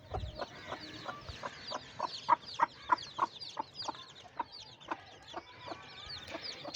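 A brooding mother hen with her newly hatched chicks clucks in a quick, steady series of close, rhythmic clucks, joined by thin high peeping.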